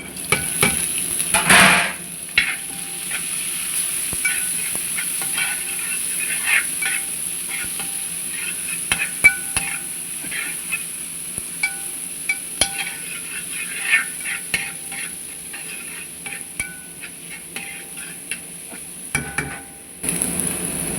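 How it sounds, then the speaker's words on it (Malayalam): Onion sautéing in a pan, with a steady loud sizzle and frying hiss throughout, broken by repeated clinks and scrapes of a spoon stirring against the pan, with no voices. "ഇതിലൂടെ സവാള ഇടാം"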